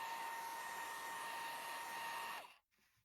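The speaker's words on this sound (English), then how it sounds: "I'm going to use a hairdryer to try and lock these droplets in." A hairdryer blows steadily on wet watercolor paper, a loud continuous whir with a high motor whine that runs unbroken for over two seconds, then cuts off abruptly, leaving near silence.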